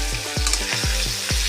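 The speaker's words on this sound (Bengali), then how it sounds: "আলু আর ওলকপিটা কড়া করে ভাজা নিব" Potatoes and kohlrabi fry in a pan in a home kitchen, making a loud, continuous close sizzle broken by a steady rhythm of stirring scrapes about every half second, with no talk.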